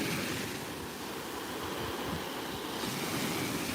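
Soft waves wash steadily onto a Florida beach on the west coast, a continuous rolling surf with light wind noise, moderately loud and without any talk.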